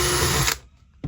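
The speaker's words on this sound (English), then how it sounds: "I'm basically just lining the drill bit up by eye," Electric drill boring a hole in model railway scenery for a London Underground depot layout, a steady close whir for about half a second that cuts off, leaving quiet room sound before a brief burst of noise.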